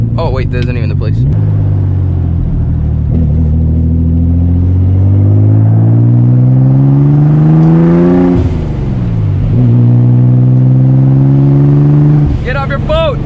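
A straight-piped Nissan 300ZX twin turbo revs loudly from inside the car, its engine note climbing and falling in long pulls with turbo whooshes and blow-off valve chatter around the gear changes.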